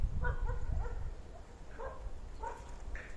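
A dog gives a few short yips and whimpering cries, fairly close, in bursts over low rumbling background noise, on a farmstead with chickens in Kropyvnytskyi, Ukraine.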